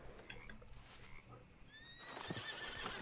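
A horse in the video game Red Dead Redemption II gives a quiet, high neigh that rises and wavers, with faint hoof clip-clops and low game ambience underneath.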